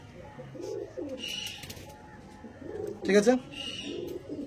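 A pair of Star Kalanka pigeons at a pigeon sale coo in soft, repeated low bursts, with one louder coo near the end, while someone speaks briefly nearby.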